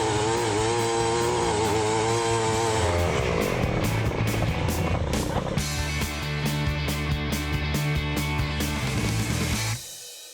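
Earthquake 52cc dually gas earth auger engine running loud and close, a buzzing two-stroke drone that revs and shifts pitch, with rattling bursts, before cutting off abruptly near the end.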